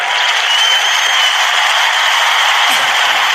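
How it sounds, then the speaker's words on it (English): A studio audience applauds a guest with dense, continuous clapping that stays loud and even throughout, close and uninterrupted. "Let's give her a round of applause."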